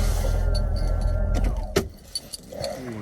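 A Mercedes W126 500 SEC coupe V8 idles close by with a whistling note, then falls quieter amid a few clicks and a short clunk as the engine settles.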